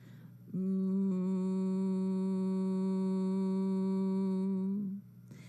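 A human voice hums one steady, buzzing tone imitating a bee during Bhramari pranayama breathing practice. The hum is held evenly for about four seconds in otherwise quiet surroundings.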